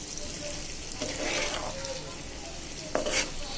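Garlic, ginger and spices frying in oil give a continuous close sizzle while being stirred, with a louder surge of hissing and a brief scrape near the end.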